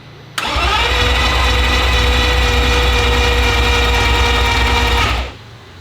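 A cheap Lamborghini's engine cranks steadily for about five seconds with a loud, even whirring churn that never catches, then cuts off abruptly into quiet.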